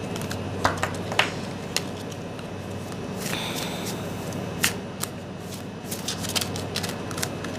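An oracle card deck, the Mystical Moments deck, is shuffled by hand at close range. Soft riffling swishes come with sharp, irregular card snaps and taps, fairly quiet, with a low hum underneath.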